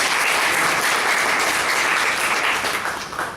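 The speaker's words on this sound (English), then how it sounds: "A big round of applause to the table topic." Steady, dense audience applause at a Toastmasters-style evaluation session, a sustained wash of many hands clapping at fairly close range that holds loud throughout and eases slightly near the end.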